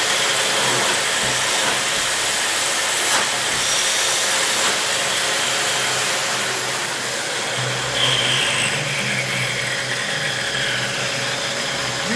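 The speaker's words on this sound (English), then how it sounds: "You can hear the vacuum," A Parkside PWD 30 A1 wet and dry vacuum cleaner running with a steady, close motor whine and rushing airflow, holding level throughout with no talking.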